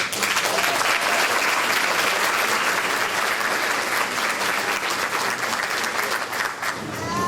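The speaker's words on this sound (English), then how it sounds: "I would like to recognize them with a big round of applause" Dense, steady audience applause fills the whole stretch at a pre-kindergarten graduation ceremony, loud and close, with many hands clapping together before tapering slightly at the very end.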